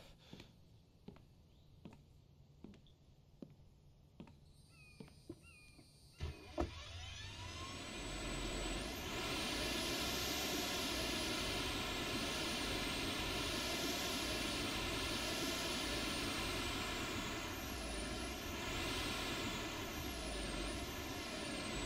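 A tractor in The Infected: a series of sharp ticks and clanks, then the engine starts and settles into a steady, loud droning hum with rising and falling whine, running continuously.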